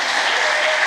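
A church congregation claps together in a short, dense burst of applause, steady and fairly close, with no pause.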